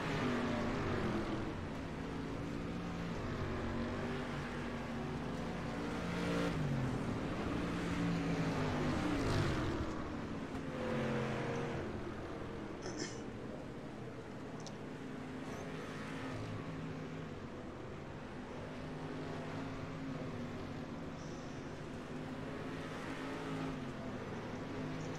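Dirt street stock race cars roar around the Lanier dirt oval in the iRacing simulator, a continuous engine drone that rises and falls with throttle, revving surges and cars passing close.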